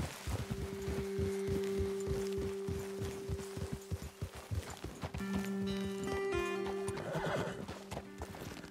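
Horses in Red Dead Redemption 2 snort and whinny over steady clip-clopping hooves, a loud neigh standing out near the end, all against a sustained musical drone.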